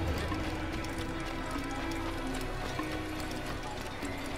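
Horse galloping in Assassin's Creed, a steady rapid clip-clop of hooves under continuous game ambience and background noise, with a voice briefly present.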